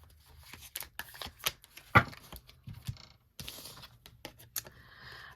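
Tarot cards shuffled by hand before two are drawn, quick soft flicks and taps in uneven bursts with a short pause partway, close and fairly quiet, with no talking.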